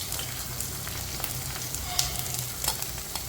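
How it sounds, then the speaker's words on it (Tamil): Onion and green chilies frying in a hot oil tempering, a continuous close crackling sizzle with light stirring ticks throughout. "தாளினைக்கு வெங்காயம் பச்சை மிளகாயை போட்டு வறுக்கிறோம்"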